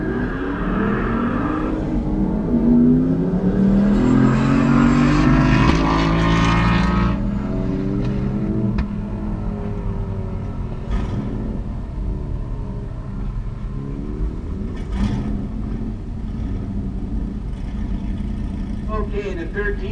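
A Mustang and a Firebird Trans Am GTA at an armdrop drag race: loud, close engine roar and revving that builds, then fades into a lower rumble while a voice talks over it.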